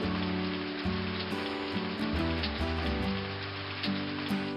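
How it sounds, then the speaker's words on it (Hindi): Steady rain patters down across a surface, a constant hiss with soft melodic music playing underneath. "इस बार बारिश बहुत अच्छी होती है।"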